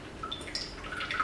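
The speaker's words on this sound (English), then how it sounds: "So we want it to start to drip." Water drips from the bottom of a freshly watered Philodendron Brasil plant pot, a few faint, separate drops landing close by in a quiet room.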